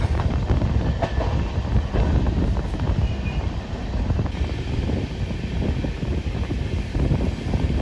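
Passenger train rolling along rails on a scenic route in India, a steady loud rumble with rattling carriages and faint rhythmic clatter, heard from onboard without talk.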